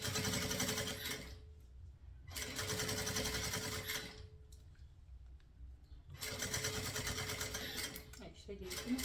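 A sewing machine runs in three long bursts, stitching piping onto a round bag, the steady rapid needle chatter stopping in between for short quiet pauses with a little handling.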